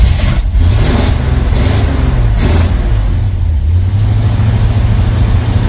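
A 1982 Chevy K10 V8 that sat unused for years runs loudly up close, its rough throbbing idle rising and falling with repeated revs.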